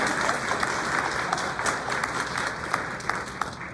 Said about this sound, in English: Let's give a round of applause to the Gale Board Library